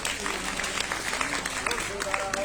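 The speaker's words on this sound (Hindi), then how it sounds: "जोरदार तालियां" Applause from the crowd at a Shivdhara Ashram bhoomi pujan ceremony, a dense, steady patter of clapping that runs throughout at moderate loudness, with voices and a tonal hum mixed underneath.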